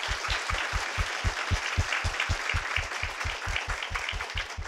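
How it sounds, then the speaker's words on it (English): Audience applause for high school debaters at a championship, heard as a rhythmic, evenly spaced clapping pattern with a dense wash of clapping over it, steady throughout. "Again, a round of applause for our debaters,"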